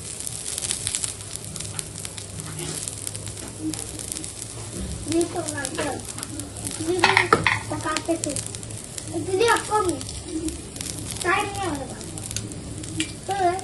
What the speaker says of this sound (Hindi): मिर्चों को भी थोड़ा तल ले रही मैं देखी, मिर्चों को तल के बना।